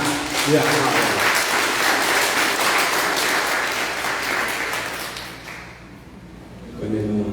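Sustained applause from a crowd at an evening religious revival service fills most of the stretch, fading briefly before rising again as a voice comes in near the end.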